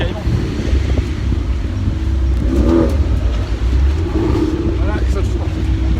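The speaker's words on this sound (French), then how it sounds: "il y a toutes les Mustangs qui partent" Several Ford Mustangs pull away together from a car meet, their engines rumbling low under wind buffeting on the microphone, while people talk nearby.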